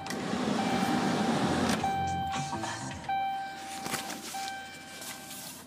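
A 2010 Dodge Ram 1500 SLT pickup starts up: a loud broadband engine roar at first, then it settles to a lower running sound with steady electronic tones like dashboard chimes sounding on and off.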